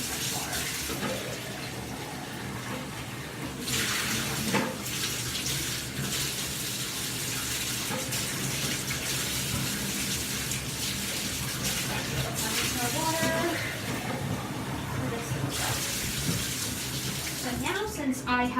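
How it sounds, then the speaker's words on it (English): Tap water runs and gushes steadily into a basin for a bath, with splashing as used water is dumped out, a continuous close wash of flow throughout. "I'm just going to dump this out and then I'm going to get some fresh water."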